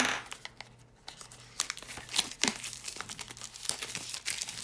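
Plastic packaging crinkles and tears close up as polygel nail tubes are unwrapped, a burst of sharp rustling crackles and snaps repeating irregularly for a few seconds.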